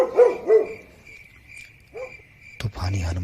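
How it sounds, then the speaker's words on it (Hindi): Dogs bark on a quiet night, several short, fairly loud barks at the start and again near the two-second mark, with a steady insect-like hum and a low rumble in the background. "चारों तरफ कुत्ते भौंकने लगे।"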